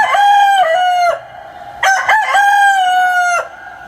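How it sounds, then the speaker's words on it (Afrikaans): A rooster crows loudly and close, two long drawn-out calls separated by a brief pause, with no other sounds. "Net toe hy dit sê, kraai daar 'n haan."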